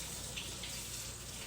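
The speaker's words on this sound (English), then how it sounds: "Let me rinse this off here." Tap water runs steadily into a sink while something is rinsed off beneath it, a constant broadband hiss with no breaks and no voices.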